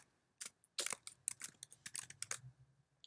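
Keys tapped on a computer keyboard while naming a storyboard sheet in InDesign, a short burst of a dozen or so quick clicks in an uneven rhythm, close and fairly quiet.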